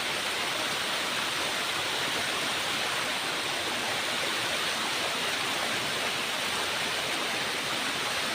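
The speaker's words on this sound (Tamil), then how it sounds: "இந்த அருவியை பாருங்க, இங்கே பாருங்க அருவி" A waterfall roars steadily and loudly up close, a dense unbroken rush of falling water with no pauses and no voices.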